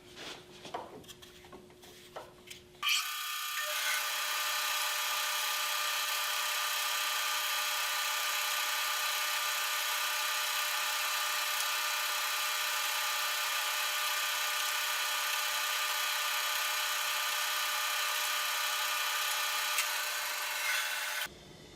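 A band saw slices evenly spaced kerfs into wooden guitar lining strip, cut on the side opposite the beveled edge; after a short quieter start, a loud steady whine with a faint rhythmic ticking runs unbroken to the end, with no talking.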